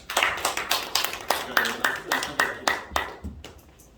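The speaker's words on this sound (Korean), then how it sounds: "다시 한번 박수하겠습니다" Audience clapping at a seminar and inauguration ceremony held at a Seoul theological school, a close, steady run of individual claps that thins out and fades near the end.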